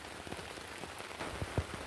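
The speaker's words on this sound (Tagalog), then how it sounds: "ni kusog ang uwan" Heavy rain pours steadily onto a surface, a dense continuous hiss with a few louder drips and splashes standing out near the end, no voices.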